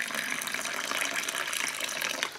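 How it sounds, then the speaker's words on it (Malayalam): Boiling water poured from a glass into rice flour while making samosa dough, a steady close splashing pour that runs continuously and fades at the end. "ഞാനൊരു ഗ്ലാസ് വെള്ളമാണ് ചേർക്കുന്നത്."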